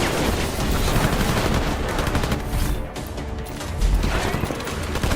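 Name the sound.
gunfire from Adam's gun arm in Deus Ex video game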